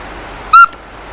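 A single short, clear whistled hoot from a northern pygmy owl, the smallest owl on Vancouver Island, plays as a recording. It stands out loudly against a faint hiss with no talking.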